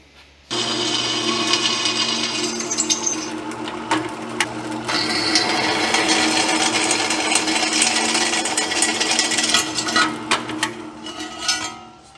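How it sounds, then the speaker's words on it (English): Steady, loud whirring of a drill boring holes through a steel transmission crossmember of a 1940 Chevy coupe, running continuously for about eleven seconds with slight changes in pitch and load, and occasional clanks. "Fixing to drill the holes for that side plate."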